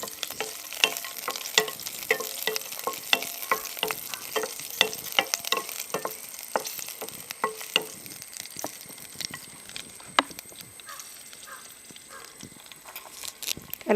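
Three cut chillies sizzling in about two spoons of hot coconut oil, a crackling, popping fry with frequent sharp spits and light stirring, moderately quiet throughout.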